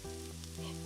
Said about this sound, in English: Then add our squid to the pan for a minute.